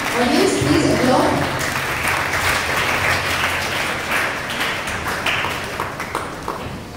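Audience applause at a science show event, a dense, loud burst of clapping that continues steadily and slowly tapers, with a voice briefly heard at the start.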